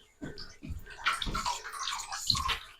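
A sheet of wet watercolor paper is lifted from water, giving a few close splashy sloshes followed by a run of small drips and trickles falling back into the basin.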